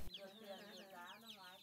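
Ri chickens on a Vietnamese farm cluck and chatter in overlapping, warbling calls, close and fairly quiet.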